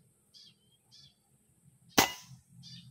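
A single sharp RTI Priest air rifle shot fired on an outdoor 100-meter range, one loud crack standing out against quiet surroundings with faint wind and a few chirps before and after.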